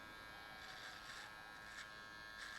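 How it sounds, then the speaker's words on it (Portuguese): An electric finishing clipper trims hair during a mid fade haircut, giving a faint, steady buzz with slight swells as it moves, heard alone without talk. "E agora eu vou vir com a minha máquina de acabamento."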